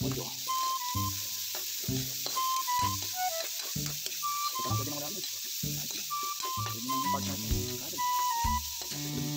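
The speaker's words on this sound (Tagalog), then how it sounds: "Patuloy lang tayo sa paghalo at pwede na nating isunod ang ating repolyo." Cabbage and carrots for pancit sizzle in a hot pan while a utensil stirs, tapping and scraping the metal in a steady rhythm of close clatters over a constant hiss.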